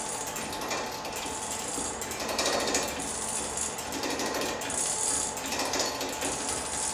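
A homemade double Becket ratchet mechanism turns a wheel meant to drive a generator, giving a steady, continuous clicking and whirring of pawls and gears, close and fairly loud with no talking.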